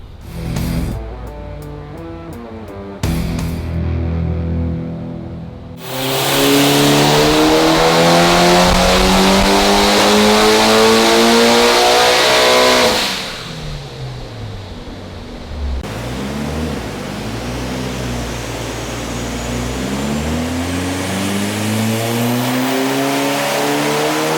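A Mitsubishi Evo 8 fitted with 272 cams revs hard on a dyno, loud and alone: short blips, then a long full-throttle pull that climbs steadily before dropping off, followed by a lower, steadier engine drone.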